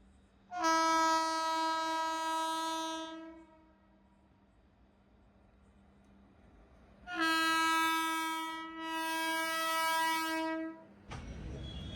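Two long, loud train horn blasts at Bengaluru Airport railway station, a single sustained tone followed after a pause by a doubled blast, then a sudden rumbling noise at the end.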